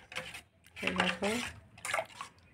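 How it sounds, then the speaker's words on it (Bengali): Cold water pours into bael fruit sherbet, a soft splashing trickle in short bursts, mixed with a nearby voice talking over it. "এবার আমি এখানে একটু ঠান্ডা জল মিশিয়ে দিচ্ছি।"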